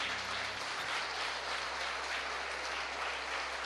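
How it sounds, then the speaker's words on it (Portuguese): A church congregation applauds, a steady even wash of many hands clapping at moderate distance, continuous throughout with a low hum underneath. "Dê um aplauso ao Senhor"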